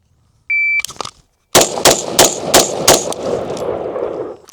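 At a shooting range, a shot timer beep is followed after a short pause by a rapid string of five loud, sharp gunshots spaced evenly, each cracking close and echoing briefly.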